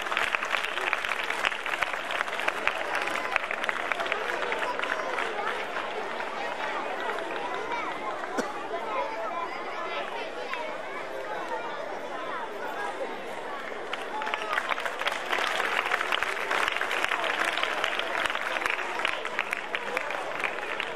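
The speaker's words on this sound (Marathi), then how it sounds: "जोरदार टाळ्या वाजवा" A school annual gathering audience gives loud, sustained applause for a young prize winner, a continuous wash of many hands lasting the whole stretch, with voices and chatter mixed underneath.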